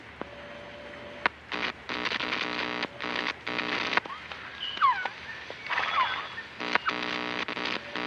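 A recorded jungle bird call from Metal Gear Solid Peace Walker plays as loud, choppy, buzzy electronic-sounding bursts with warbling chirps woven through, repeating in uneven pulses.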